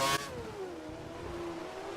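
F1 race car engine in the F1 2013 video game at the Malaysia circuit, running at full revs with a steady high-pitched whine after a brief louder burst at the start.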